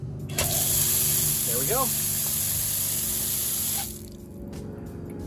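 Water sprays and rushes steadily from an Aquor hydrant hose connector retrofitted to copper plumbing, a loud broadband hiss that cuts down sharply near the end, with a voice speaking briefly over it.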